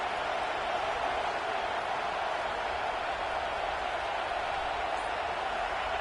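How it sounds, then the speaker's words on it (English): Stadium crowd at an Alabama vs Georgia college football game, a dense, unbroken roar of distant voices and applause filling the whole stretch at a constant, loud level. "Listen to this crowd noise. This stadium is vibrating."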